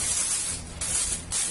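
Cooking spray hisses from an aerosol can into a Pyrex baking pan in a home kitchen, in three close, steady bursts separated by brief pauses, with no talking.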